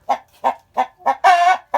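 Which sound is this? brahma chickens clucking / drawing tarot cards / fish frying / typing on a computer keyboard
brahma chickens clucking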